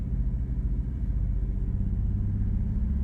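A 1994 Dodge Dakota with a suspected transmission fault idles at about 2000 RPM while creeping forward in drive, producing a steady low engine rumble that holds constant and nearby throughout, with no talking.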